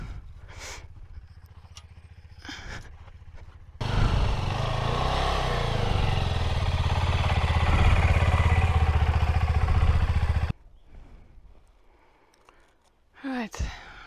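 A motorbike engine starts up close and runs loud and steady for several seconds as it is ridden out through a farm gate in remote South Africa, with faint talk and clatter before and after.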